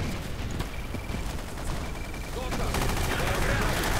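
Assault rifle fire in the video game Battlefield 2142 on the Karkand map: dense, rapid bursts of gunshots with a noisy battlefield din that grows louder toward the end.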